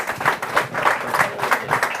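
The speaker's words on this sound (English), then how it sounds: "give a big round of applause" Audience applause at an awards ceremony, a steady wash of many hands clapping together, fairly loud and sustained.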